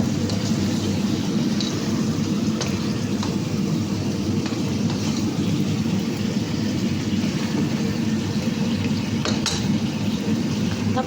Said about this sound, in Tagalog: Sinalin ko na dito yung ating pinagpakuluan ng karne.